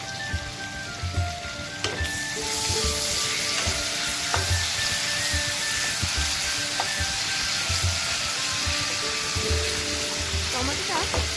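Jackfruit curry fries in a pan with a dense, steady sizzle and crackle, broken by occasional scraping stirs and clinks close by.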